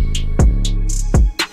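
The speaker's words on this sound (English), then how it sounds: "Then there's this other snare that doesn't play very often." A sparse extra snare sample cracks twice in a dark, bouncy trap-style beat, landing with deep booming bass hits while light hi-hat ticks and hissy bursts fill the gaps.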